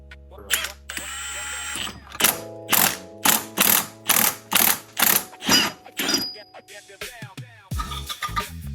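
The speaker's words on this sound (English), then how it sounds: "tighten the set screws, spin it around and do it evenly" Set screws on a Harley-Davidson steering head bearing race are tightened with a ratchet, giving about ten loud, regular bursts of clicking pawl strokes, close up, then a few scattered metallic clicks and handling noises.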